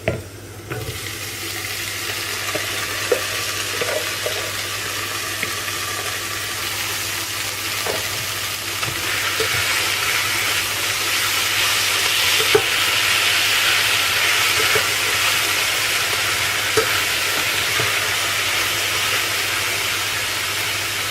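Vegetables sizzle steadily in a hot pan with browned onions for homemade lasagne, a loud continuous frying hiss with occasional stirring taps and no talking.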